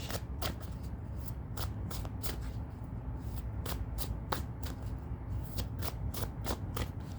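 Tarot cards shuffled by hand, a steady series of crisp riffling snaps and flutters with no talking.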